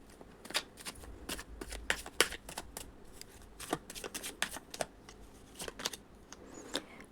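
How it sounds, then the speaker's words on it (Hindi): Tarot cards being shuffled close up, a quick run of crisp riffling snaps and flutters in irregular bursts, with no speech over them. "तो चलिए पहले कार्ड निकाल लेते हैं।"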